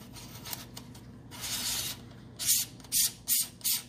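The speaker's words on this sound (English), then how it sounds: "that's what we're going to screw into" Plastic lens hood adapter being twisted onto the threaded lens of a Sony AX53 camcorder, a few short scraping rasps of threads turning, with soft rubbing in between, close up and fairly quiet.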